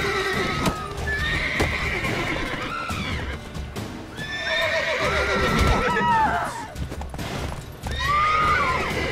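A horse in the video game The Witcher 3: Wild Hunt whinnies loudly several times over a busy jumble of clattering hooves and game noise, the neighs rising and falling in pitch.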